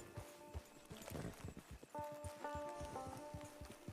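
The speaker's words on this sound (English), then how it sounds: "It's your horse." A horse in Red Dead Redemption 2 clip-clops at a walk, with repeated hoofbeats, near but faint, joined by a short snort or whinny amid soft game ambience.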